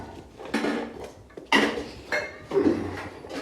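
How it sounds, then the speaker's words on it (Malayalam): A spoon clinks and scrapes against a bowl while pickle ingredients are stirred and mixed, in a few separate bursts of close, moderately quiet kitchen sounds. "നല്ല ഇളക്കി കൊടുത്തിട്ട് ഇത് മിക്സ് ചെയ്യാം"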